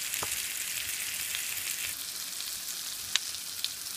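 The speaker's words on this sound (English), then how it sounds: "So veggies are stir fried." Vegetables stir-fry in a wok for Indo-Chinese Hakka noodles with a continuous bright sizzle, marked by a few quick clicks of the spatula against the metal.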